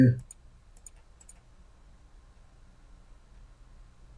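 A mouse clicks quietly a few times in SolidWorks software, about three short, crisp clicks in quick succession over a near-silent background, after a brief voice at the start.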